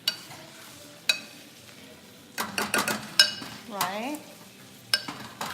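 A masher works halibut batter ingredients in a bowl, producing close, uneven clinks and scraping squelches in short bursts, with a voice speaking briefly.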